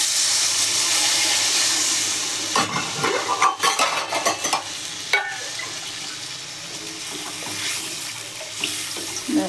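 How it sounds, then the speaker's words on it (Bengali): Water runs from a tap into a pan of simmering fish and potato curry being made with rohu fish and cauliflower, pouring steadily and close by, with some clatter and stirring sounds partway through. "এবার আমি জল দিয়ে দেবো তরকারির মধ্যে ঝোলের জন্য"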